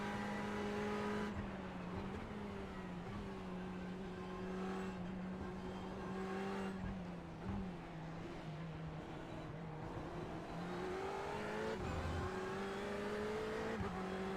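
Race car engines, including a Porsche, in a racing video game: a continuous droning whine that rises and falls with gear changes, other cars roaring alongside, and a brief tire squeal, with no voices.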